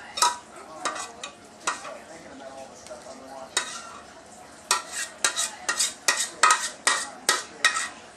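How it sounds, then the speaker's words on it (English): Macaroni and cheese gets stirred around a pan for a Southern granny-style dish, with spoon scrapes and soft sizzling, sharp clinks against the pan coming in a quickening run toward the end. "Now I've been stirring the macaroni while it's been sitting back here in the pan."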